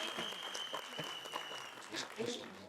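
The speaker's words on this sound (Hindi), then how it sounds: "Vivan, please तालियां होनी चाहिए" An audience at a film teaser launch event claps steadily, a faint, dense patter of many hands that fills the brief moment, with a voice on the stage sound system over it.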